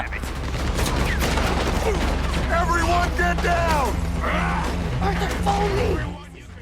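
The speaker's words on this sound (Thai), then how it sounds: "เมื่อเจ้าหน้าที่เปิดฉากระดมยิงปืนกล" Rapid machine gun fire from officers in Red Dead Redemption 2 rattles on as dense mechanical bursts, mixed with game music tones and a low steady hum, then cuts off and fades near the end.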